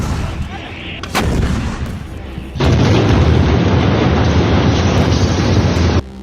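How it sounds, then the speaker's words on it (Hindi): Artillery shells fire and burst on a Gaza war battlefield, a sharp crack followed by sustained loud, rumbling roar that swells midway and holds steady before cutting off. "तोप के गोले बरस रहे हैं।"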